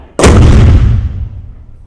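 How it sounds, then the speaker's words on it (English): A single booming cannon blast from a firing demonstration at Fort Jackson, Savannah, Georgia cracks out sharply, then a deep rumbling echo rolls on and slowly fades over the next second and a half. "Here's the cannon they used for the firing demonstration"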